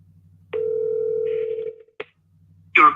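A phone call rings out as a long steady tone, then a short blip and a brief burst as the line drops straight to voicemail, with no one speaking.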